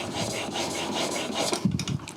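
Hand plane blade rubbed back and forth on a 1200 grit sharpening stone to remove the burr, a close, steady rasping scrape in rhythmic strokes ending with a few light knocks.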